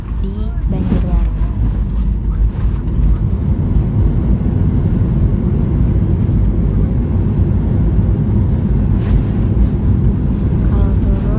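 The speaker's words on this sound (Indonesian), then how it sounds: "ini detik-detik bannya sudah menginjakan di aspal Bandara Syamsuddinur di Banjarbaru" A passenger airplane touches down on the asphalt runway at Syamsudin Noor Airport in Banjarbaru, heard from inside the cabin as a loud, steady roar of engines and rolling, while a person talks over it.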